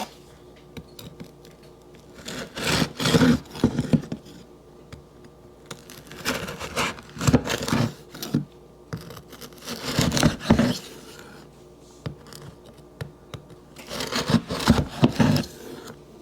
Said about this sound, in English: You're going to use a serrated knife, and you're gonna cut it like you would a baguette or another kind of bread.